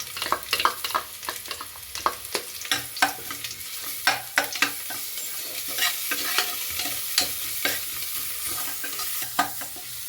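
Ginger, garlic, clove and cinnamon paste fries with onions for Andhra-style tomato rice, a steady close sizzle broken by frequent sharp scrapes and knocks of a spoon stirring in the pan, with no talking.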